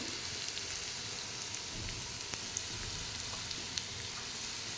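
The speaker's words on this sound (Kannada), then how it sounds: "ಇವಾಗ ಇಲ್ಲಿ ನೋಡಿ ಚೆನ್ನಾಗಿ ಫ್ರೈ ಆಗ್ತಿದೆ" Okra and egg curry frying in a pan, giving a steady close sizzle with small crackling pops throughout and no voices.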